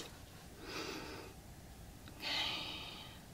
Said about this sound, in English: just breathe normally for a moment